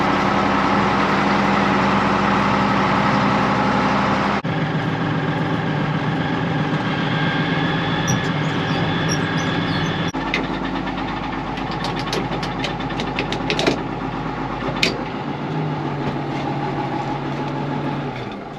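A tractor engine idles on a cold winter morning after starting without its block heater plugged in, giving a loud, steady diesel drone that shifts tone twice, with a few faint clicks and no talking.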